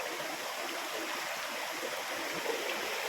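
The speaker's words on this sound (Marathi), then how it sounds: "हे स्वच्छ पाणी झऱ्याचं स्वच्छ पाणी पिण्याचं पाणी आहे आणि झरा चालू झाला" Clean spring water flows out of the ground in the Konkan region during the rainy season, a steady, even rushing murmur like a small stream. It continues alone at moderate volume, with no voices.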